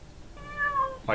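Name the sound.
cat meowing, played sound file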